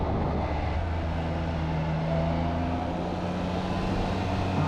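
A 2021 Triumph Trident 660 motorcycle engine pulls hard, a steady droning engine note with rising tonal harmonics under heavy wind rush, close and continuous.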